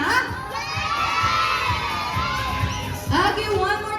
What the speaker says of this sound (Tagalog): when I say kids, soon you will shout hooray